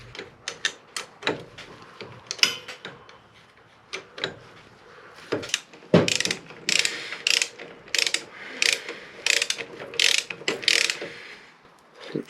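Socket ratchet turning the swing arm pivot bolt on a Royal Enfield Himalayan motorcycle, a series of quick ratcheting clicks in uneven bursts, close and fairly loud, with no talking.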